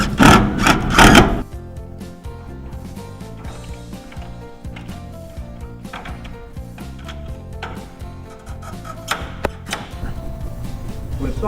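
Self-tapping screws being driven into a metal filter access panel during an economizer install on a Carrier rooftop unit: a loud burst of drilling at the start, then quieter clicks and knocks of handling and fastening, with no talk.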